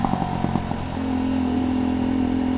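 A Jawa Perak motorcycle engine idles steadily up close, a low throbbing rumble that settles into an even drone after some uneven sputtering at the start.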